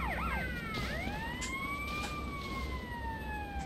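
A wailing police siren in Grand Theft Auto: Liberty City Stories (PSP) sweeps up and down steadily, somewhat distant and thin, over a constant background hum, with no voices.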